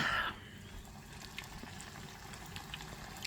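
Steady bubbling sizzle of onion rings deep frying in hot oil, a continuous crackling hiss with occasional pops, close and fairly quiet.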